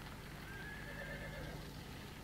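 A horse in Farming Simulator 17 lets out a faint, drawn-out whinny over a low steady background, with soft hoof clip-clop and no voices.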